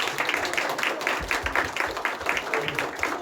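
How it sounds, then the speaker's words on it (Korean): Audience applause for a veteran actor after a talk-with-the-audience event, dense rhythmic clapping from a crowd sustained evenly throughout at close range. "큰 박수 부탁드리겠습니다."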